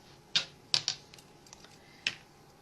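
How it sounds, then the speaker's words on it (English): Wire folded and pinched with pliers while making a petal garland, heard as a few sharp metallic clicks and snaps, one near the start, a close pair next, and one more later, each brief and fairly close over quiet background. "make another fold, pinch it with your pliers"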